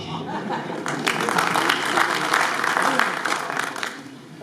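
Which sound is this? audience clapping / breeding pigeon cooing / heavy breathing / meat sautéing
audience clapping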